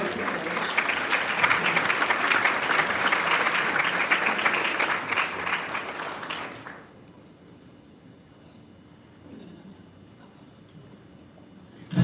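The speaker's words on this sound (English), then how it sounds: "please give a round of applause while we depart our principal" A crowd at an MLK Day breakfast claps loudly and steadily for about seven seconds as a principal departs, then the applause cuts off into near silence.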